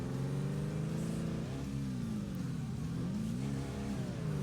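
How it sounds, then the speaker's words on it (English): An ATV engine in the ATV Offroad Fury 4 video game drones steadily as it climbs a steep uphill road, its pitch dipping and rising under load, continuous and fairly loud with no talking. "Put that engine to work."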